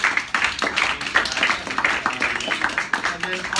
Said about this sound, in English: we make sure we give our speaker a round of applause